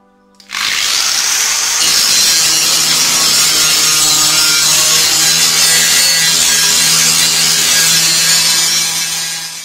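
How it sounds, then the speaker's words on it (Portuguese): An angle grinder smoothing a Ford Taunus fender during restoration, starting abruptly and running as a loud, continuous abrasive whine with a steady motor hum for about nine seconds before easing slightly at the end. "estou acabando de fazer o lixamento, passar a rebarbadora para ficar liso"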